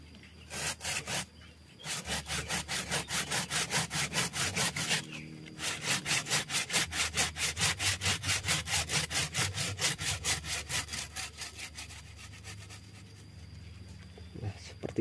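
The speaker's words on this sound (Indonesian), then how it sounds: "Dan ini gergajinya sudah kurang tajam, kita menggunakan gergaji besar aja ini." A large hand saw with a dulled blade cuts through a tree's root stump in fast, regular back-and-forth strokes, loud and close, pausing briefly before resuming the rhythmic rasping.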